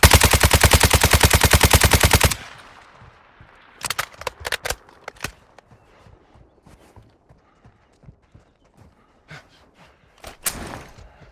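Kastov 545 rifle gunfire in the mobile battle royale game Warzone Mobile: a rapid, loud automatic burst of about two seconds, then scattered single shots, clicks and footsteps at lower level.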